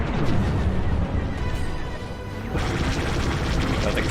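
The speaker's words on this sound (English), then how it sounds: "Rotary cannon." Rotary cannon on a starfighter in the Star Wars: Squadrons space combat game, a continuous loud roaring burst of rapid fire with a harsher surge partway through.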